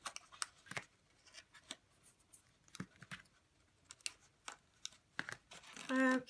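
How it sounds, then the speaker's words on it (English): Scissors cutting paper while assembling a paper box craft, a series of short crisp snips and light paper rustles close by, ending in a brief tonal squeak. "let me take my scissors here"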